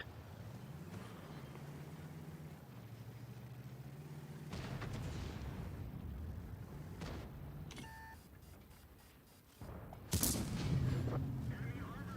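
Booming cannon shots ring out from a German Tier 8 E75TS heavy tank on the Ensk map in World of Tanks, over steady engine rumble and game beeps, the loudest blast coming near the end.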